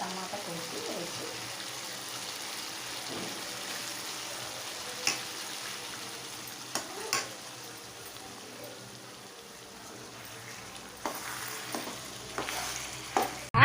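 Chicken curry with chopped tomato frying in a pan, a quiet steady sizzle with occasional scrapes and clicks from stirring, fairly soft throughout, with faint voices in the background.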